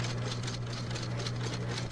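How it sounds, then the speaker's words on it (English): A home sewing machine runs steadily throughout, a close, constant hum with a low motor drone and fine mechanical chatter, no voices. "And unplug their sewing machine"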